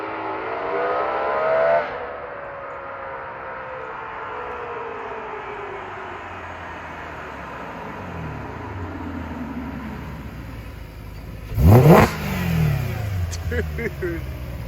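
A straight-piped BMW E92 M3 revs its engine, the exhaust rising and falling through loud, raspy pulls with a sharp burst near the end, under people talking.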